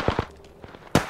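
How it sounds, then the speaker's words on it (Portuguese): Gunfire in the video game Apex Legends: a few short sharp shots in quick bursts, two near the start and a louder pair at the end, with faint shots in between. "Atrás de gente tem tiro"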